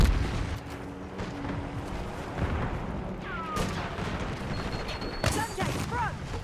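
A concussion grenade detonates during a competitive first-person shooter match, with sharp broadband bursts standing out over continuous gunfire and in-game noise.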